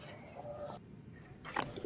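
A faint, brief bird call sounds in the video game Elden Ring, a short clucking chirp set against quiet ambience.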